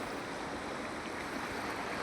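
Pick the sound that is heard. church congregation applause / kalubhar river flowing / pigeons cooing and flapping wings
kalubhar river flowing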